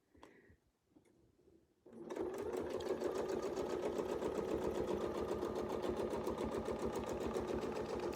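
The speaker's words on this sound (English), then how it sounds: "notice the rhythm on my machine. Nice and rhythmic" A sewing machine stitches a quilt guided by a Westalee wreath ruler template. A few faint taps and a short tone in near-silence give way to a steady, fast, evenly rhythmic mechanical whir that runs on close and uninterrupted.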